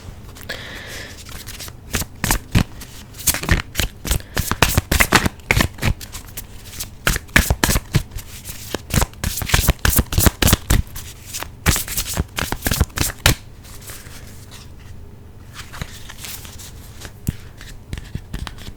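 A deck of oracle cards shuffled over and over, rapid papery riffles and slaps in repeated bursts, close up, with no talking.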